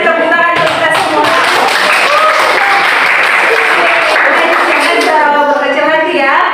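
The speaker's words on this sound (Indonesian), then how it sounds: "sekali lagi tepuk tangan untuk kita semua" Schoolchildren applaud together in a classroom, loud and close, with steady clapping throughout and children's voices chattering and calling over it.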